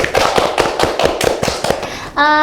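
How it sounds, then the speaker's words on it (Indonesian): A small group of people claps in a quick, uneven rhythm for about two seconds, close and fairly loud, before a sustained musical tone takes over. "kita tepuk tangan sekali lagi"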